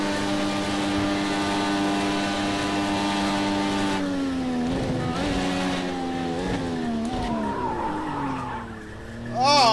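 Car tires squealing and skidding under hard braking in the racing game Project Cars 2, played on a motion rig in VR, over a high revving engine that drops and wavers in pitch as the car slows, loud and continuous.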